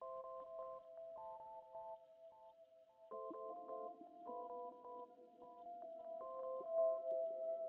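Astro Trip synth preset from an Analog Lab analog bank plays a quiet, gentle melody of sustained tones, thickening around midway into layered chords over a soft buzzy low texture, with no voices.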